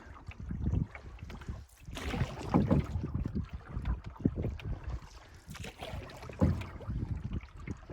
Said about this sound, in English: you can keep the boat going straight